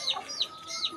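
An Aseel rooster gives three short, clipped clucks at an even pace, fairly close and moderately loud.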